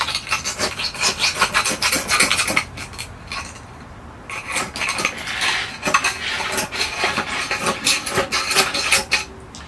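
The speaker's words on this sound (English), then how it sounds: "Let's get the tree out of the pot." Red maple bonsai being worked out of its pot in a greenhouse, with close rhythmic scraping and rasping bursts, a brief pause midway, then more scraping and rubbing, no talk.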